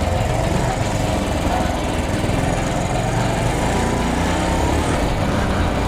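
Small Honda C70 motorcycle engine droning steadily and loudly throughout while riding a road, a continuous buzzing putter with wind noise and no talk.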